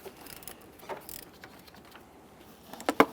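An 8mm ratchet clicks faintly in short bursts while loosening the negative battery terminal on a 1999-2006 Chevrolet Silverado 1500, with a sharper metallic clack near the end.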